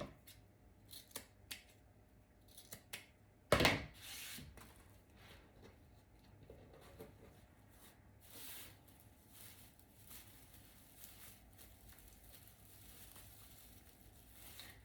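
Scissors cut Dollar Tree decoration material for a Christmas front door decor, with a few soft snips and handling rustles, one sharp louder cut midway, then quiet rubbing and fiddling sounds close by.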